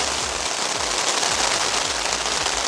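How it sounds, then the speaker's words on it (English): Steady rain patters on a tent, a constant close hiss broken by soft dull thumps of heavier drops. "Another evening of rain."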